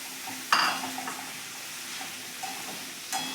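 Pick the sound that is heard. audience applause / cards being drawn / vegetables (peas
vegetables (peas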